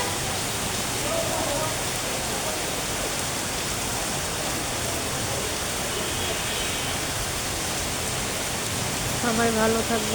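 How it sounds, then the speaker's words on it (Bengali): Heavy rain pours in a dense, steady roar with no break, loud and continuous, with faint tonal sounds surfacing briefly in the background. "এখন খুব জোরে নামছে বৃষ্টিটা"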